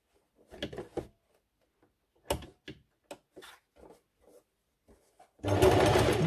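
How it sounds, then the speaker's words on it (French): A sewing machine stitches fabric for a needle holder in a burst of fast, steady mechanical whirring at the end, after a few scattered handling clicks and knocks in a quiet room. "vous le faites à la machine à coudre."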